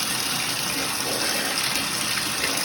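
Cold tap water runs through a garden hose into a pressure washer in a home screen-printing shop, giving a steady, close rushing hiss with no break.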